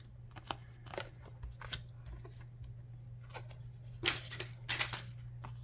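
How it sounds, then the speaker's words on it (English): Paper being trimmed from a handmade DIY journal with scissors on a kitchen island, a series of quick snips and crisp crunchy cuts in uneven bursts, close up over a steady low hum, no talking. "cut the excess off real quick"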